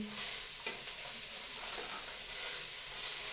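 Long-cut, washed cabbage tossed into a hot pan sizzles steadily and close by, a continuous frying hiss with faint stirring scrapes and no talk.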